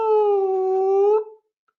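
A person vocally imitates the eerie, foghorn-like dawn call of a lemur troop in Madagascar: one sustained, wavering howl-like tone lasting over a second, loud and close, then cut off into silence.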